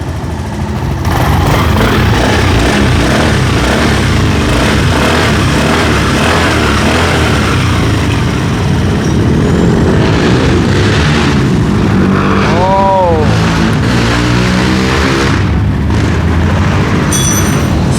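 A Suzuki Skydrive fuel-injected motorcycle engine starts and settles into a steady, close idle that runs throughout, with a few brief higher tones near the end.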